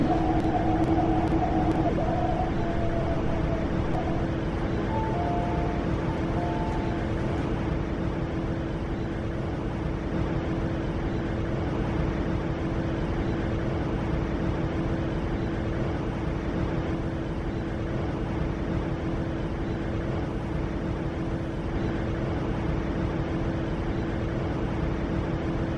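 MTR East Rail Line nine-car R-Train in the Hmmsim 2 simulator, a steady loud rumble of the train running throughout, with a faint tonal chime-like hum early on and no speech.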